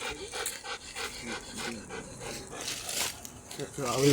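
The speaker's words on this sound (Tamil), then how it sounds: "இந்த மோப்ப நாய் வந்து துல்லியமாக இந்த கேஜி சங்கியாக இனம் காட்டி இருக்கின்றது" A police sniffer dog pants quickly and steadily while searching a vehicle for smuggled cannabis, close and fairly loud, with a brief whimpering whine near the end.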